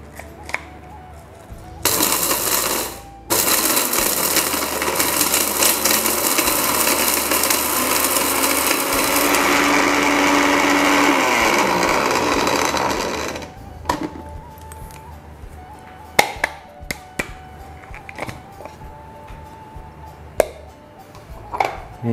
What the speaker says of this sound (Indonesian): Ini memang blendernya agak repot juga karena sedikit ya. Ini kita blender